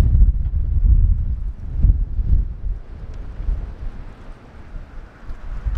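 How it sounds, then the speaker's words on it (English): Strong gusty wind outdoors buffets the microphone beside a Ford Bronco Sport, with low rumbling blasts swelling and easing over several seconds and no voices. "It is extremely windy"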